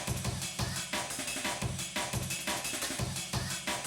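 Dense layered drum break loops with punchy kicks and crisp snares and busy cymbal wash, repeating steadily and loudly, no talking.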